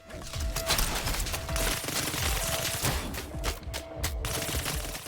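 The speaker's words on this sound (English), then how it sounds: "SMG is better for this." Rapid bursts of submachine gun fire in the video game CyberCorp, the sharp shots repeating in quick clusters across the whole stretch at a steady moderate level, with no talking.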